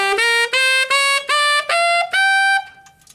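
A tenor saxophone plays an ascending blues scale from high A into the altissimo register, six separate bright, loud notes in a row, the last one held and then released, with no talking.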